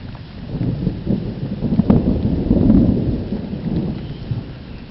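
A passing thunderstorm rumbles low and heavy as thunder rolls for several seconds over steady rain pattering on surfaces, with no voices.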